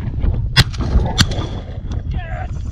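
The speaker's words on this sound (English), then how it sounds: "That was a 20 gauge." A 20 gauge shotgun fired at a goose during a goose hunt: a couple of sharp, loud reports in quick succession, nearby and outdoors, with rustling and movement around them.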